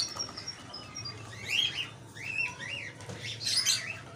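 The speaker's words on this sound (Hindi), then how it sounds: "और चिड़िया यहाँ बैठी चावल खा रही है।" Small birds feeding on scattered rice and bread outdoors give bright, repeated chirps and tweets in short bursts over a faint steady insect-like background hum.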